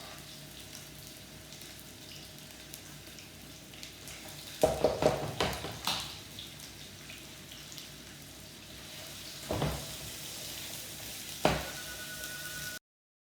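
Onions drop into a hot pan for a Zanzibar pilau and settle into a low, steady sizzle, with a few louder clattering bursts of stirring along the way, and no talk.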